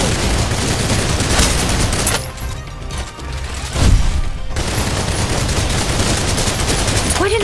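Sustained rapid gunfire in the video game Snowbreak: Containment Zone, dense bursts of fusillade filling most of the clip with a brief lull in the middle before the shooting resumes loudly.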